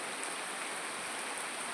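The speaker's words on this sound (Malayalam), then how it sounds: "അപ്പോൾ അതാ നല്ല മഴ പെയ്തുകൊണ്ടിരിക്കുകയാണ് കേട്ടോ" Heavy rain pours into a courtyard where water is pooling, a dense, steady hiss of drops on wet ground heard up close with no voices.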